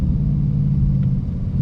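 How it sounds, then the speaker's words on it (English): A 2021 Ford Mustang Mach 1 with a 10-speed automatic gives a deep, steady engine rumble as it rev-match downshifts, loud and close without talk. "You can hear that automatic rev match downshifting."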